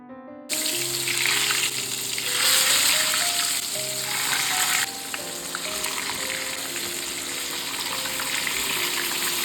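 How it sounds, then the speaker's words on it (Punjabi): Bitter gourds (karela) frying in oil in a pan, a steady loud sizzle that swells briefly as more gourds go in, then settles into continuous crackling frying. "ਜਿੱਦਾਂ ਆਪਾਂ ਪਹਿਲਾਂ ਫਰਾਈ ਕੀਤੇ ਆ ਤਾਂ ਉਸੇ ਤਰ੍ਹਾਂ ਹੀ ਆਪਾਂ ਦੂਜੇ ਪੂਰ ਨੂੰ ਫਰਾਈ ਕਰਨਾ"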